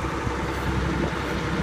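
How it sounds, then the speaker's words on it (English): A Case International 3594 tractor engine idles with a steady, low rumbling drone, continuous and fairly close throughout, with no speech over it. "And tractor of choice is the 3594 Chase International."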